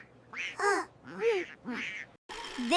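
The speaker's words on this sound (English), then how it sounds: "2 ducks." A cartoonish duck quacks several times in quick succession, loud and close, with a brief pause before a final quack.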